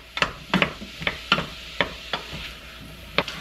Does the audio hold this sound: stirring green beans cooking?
yes